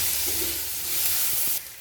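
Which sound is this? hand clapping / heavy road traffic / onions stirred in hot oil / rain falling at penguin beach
onions stirred in hot oil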